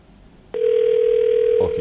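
A telephone ringback tone on a radio call-in line, one long steady tone that starts abruptly and holds, with a brief muffled noise near its end.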